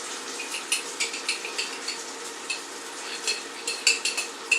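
Sauce bubbling in a pan with cooked meat and onion, a soft steady sizzle broken by repeated clinks and scrapes of a utensil stirring against the pan, close and moderately quiet.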